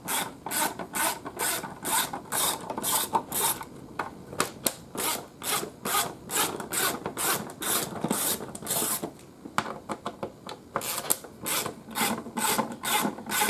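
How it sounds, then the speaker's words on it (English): A socket wrench loosens air box bolts on a Fiat 500 Abarth, making a close, rapid train of rhythmic ratcheting strokes that continues with only brief pauses. "So just use the socket. And it's just these 3 bolts, they come out real easy."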